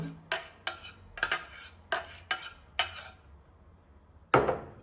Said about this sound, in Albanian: e përzijmë masën mirë, që zbuten biskota